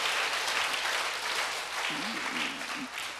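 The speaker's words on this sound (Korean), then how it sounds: "자, 박수로 주님께 영광 돌립니다." A church congregation at a Sunday worship service claps together, a broad steady wash of applause with a faint voice rising briefly beneath it near the end.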